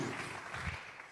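Church congregation applauding during a sermon, a brief muffled wash of clapping heard from a distance, fairly faint and lasting about a second.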